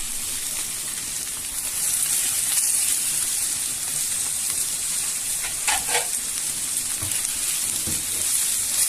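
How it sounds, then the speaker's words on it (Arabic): Boiled chicken pieces sautéing in a hot pan, a steady close sizzle and crackle with occasional stirring scrapes, no talking. "هنحط الفراخ نشوحها شويه"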